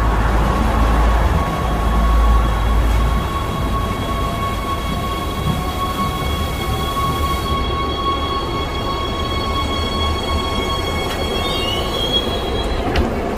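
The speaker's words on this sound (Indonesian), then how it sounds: "Nah, ini keretanya sudah datang." A train pulls into a station in Switzerland with a steady rolling rumble and sustained high wheel squeal and brake whine, loud and close, with no talking.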